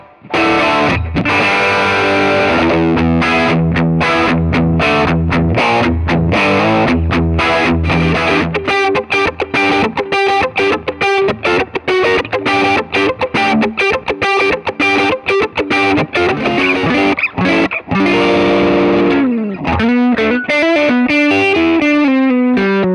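A 2006 Gibson Les Paul Standard electric guitar plays a loud, distorted riff through effects, with dense driving chords and quick rhythmic stops throughout, steady and alone without voices.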